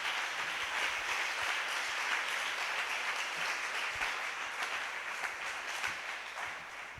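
A church congregation applauds during a French-language prayer and fasting service, dense sustained clapping filling the whole stretch at an even, lively level.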